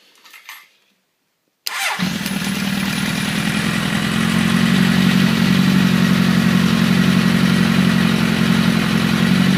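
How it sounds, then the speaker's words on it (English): A motorcycle engine cranks and fires up after a brief silence, then settles into a steady, loud idle close to the microphone with an even, continuous rumble. "We'll fire up the bike and I'll show you what all it can do."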